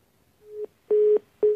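Three short telephone beeps sound after a call is hung up, each a clean steady electronic tone, the later two louder and longer, with quiet gaps between them.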